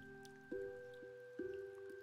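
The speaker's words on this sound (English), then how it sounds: "The rain is slightly lighter now." Rain dripping in the video game Omori: quiet, evenly spaced synthetic drip plinks with a short pitched ring, layered over a soft sustained game tone.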